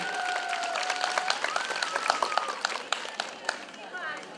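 Audience applause for a child in an embroidered dress at a Trinity holiday celebration: a crowd claps steadily, with a voice talking over it.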